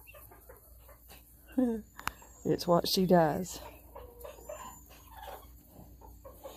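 Chickens cluck and squawk in a short, loud burst of calls in the middle, with a person talking quietly before and after.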